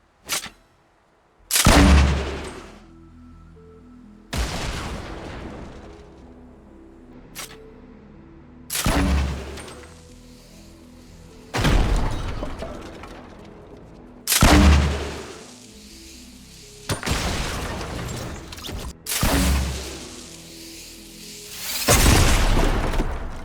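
Grenade launcher rounds in Fortnite fire and explode, a series of about eight heavy booms spaced a few seconds apart, each with a sharp attack and rumbling decay, loud and without talk.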